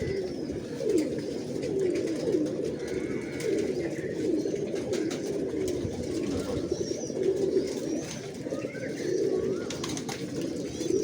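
Pigeons at a breeding setup coo continuously in overlapping low, throaty rolls, close and steady throughout, with faint rustling and occasional chirps in the background.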